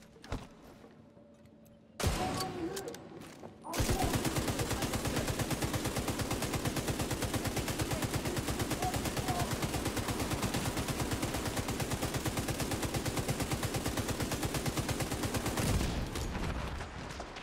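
Sustained automatic gunfire in The Division 2 shooter game, rapid shots in a dense continuous rattle after a few brief bursts, loud and close, with no talking.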